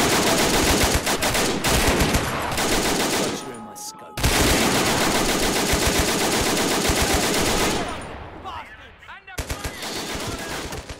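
Dense, continuous machine-gun and rifle fire from a Men of War: Assault Squad 2 battle, loud and overlapping in sustained bursts, with a brief break near the middle and a quieter lull before the shooting resumes.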